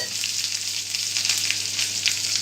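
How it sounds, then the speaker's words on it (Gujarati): Hot oil sizzles and crackles steadily at close range as a chutney tempering with chopped green chillies fries, a bright continuous spattering with a faint low hum beneath and no talking. "આપણે ચટણીનો વઘાર કરીશું"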